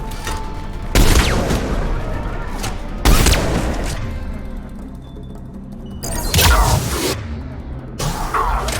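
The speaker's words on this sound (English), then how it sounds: "He's taking fire! Protect him!" Bursts of gunfire in the video game Mass Effect 3 (Legendary Edition), with sharp volleys around one, three and six seconds and lighter shots between, loud and close, with faint voices mixed in.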